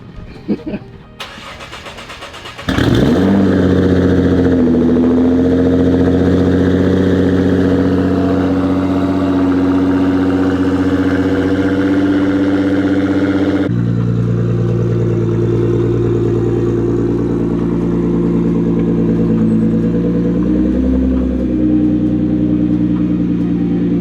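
A Nissan GT-R R35 cranks and fires up with a sharp rev, then settles into a steady, loud idle with a slight shift in tone partway through, close and without talk.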